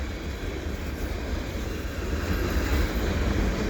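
A heavy CN freight train led by SD75i and SD70M-2 locomotives, hauling tank cars through snow, rumbles past close by, a loud continuous roar of wheels on rails with a low rolling drone and no pauses.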